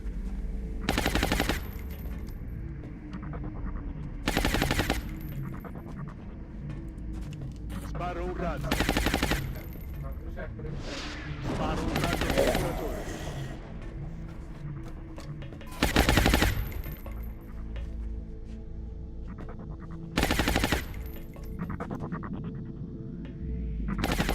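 Gunfire in the XCOM alien base assault game comes as several loud, sharp bursts spaced a few seconds apart over a steady game soundscape, with someone talking at times in between.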